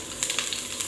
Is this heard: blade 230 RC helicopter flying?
no